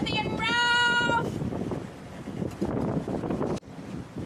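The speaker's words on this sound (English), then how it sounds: "Sailing along here with 20 to 24 knots of wind." Strong wind of 20 to 24 knots buffets the microphone on a sailboat off Grenada, a loud continuous roar with a brief tonal whine near the start and one sudden dropout.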